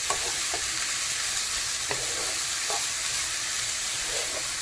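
Onions fry in a pan, giving a steady, loud, close sizzle with occasional soft clicks as they are stirred, and no talking.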